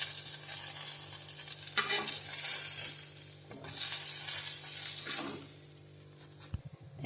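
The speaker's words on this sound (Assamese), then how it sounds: "এইদৰে মই বেঙেনাখিনি এনেদৰে ভাজি ল'লোঁ" Eggplant frying in a pan makes a soft, fairly quiet sizzle that swells twice with bursts of stirring, then thins out toward the end with a few light clinks.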